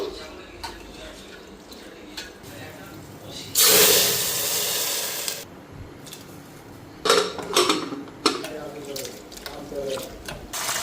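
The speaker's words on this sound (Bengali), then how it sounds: "ওইদিকে ডালটা ভালো করে ধুয়ে নিতেছি" Lentils (dal) are washed in water in a home kitchen: a burst of running tap water, then intermittent splashing, rubbing and clinking of the pot, with voices talking in between.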